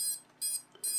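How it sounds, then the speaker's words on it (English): No-signal alarm from an FPV racing drone, a 2.5-inch 3S build: three short high-pitched electronic beeps in an even rhythm, close but fairly quiet, alone. "The beeping that you can hear there is the alarm or no signal beep."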